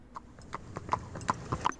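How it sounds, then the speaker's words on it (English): A horse pulling a buggy clip-clops with steady, evenly spaced hoofbeats on pavement at moderate distance, with faint background noise. "just in case old Abraham comes around in the horse and buggy."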